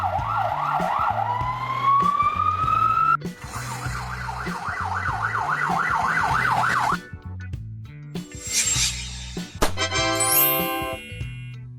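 Ambulance siren in Andorra, a Mercedes-Benz Sprinter, Volkswagen Crafter or Peugeot Boxer, switching between a slow wail, a fast yelp and a rising high-pitched warble, loud and near over a pulsing low horn tone.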